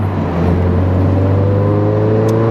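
A 2022 Subaru BRZ with an aftermarket exhaust drones steadily while driving, a loud, constant low hum with layered engine tones under a smooth whir, heard from inside the car.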